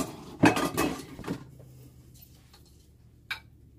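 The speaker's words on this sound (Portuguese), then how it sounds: "E momento de tapar" A lid is set onto a frying pan holding gluten-free batter, giving a few quick metallic clatters close by, then near quiet and one last faint tap.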